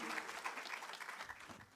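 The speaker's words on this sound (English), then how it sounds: "Can we give them a round of applause?" A room full of people applauds the hardworking young learners at a national school examination results announcement, a steady even wash of clapping lasting the whole moment with a faint voice or two underneath.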